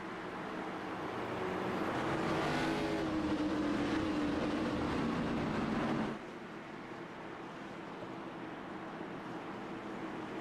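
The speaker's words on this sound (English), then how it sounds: "Get ready to go back to green flag racing here." ARCA race cars roar as they accelerate at a green flag restart on a racetrack, engines swelling to a loud, steady drone for several seconds before dropping back to a lower rumble.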